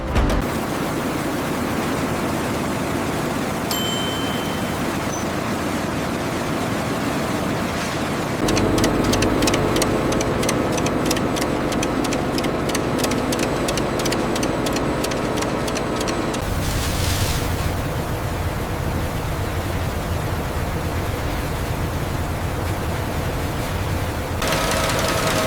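Industrial granulator shreds old tires into rubber crumb inside a recycling factory, a loud, dense mechanical roar with a rapid rhythmic clatter in the middle section and steady grinding before and after.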